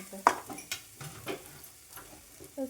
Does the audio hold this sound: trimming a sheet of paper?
no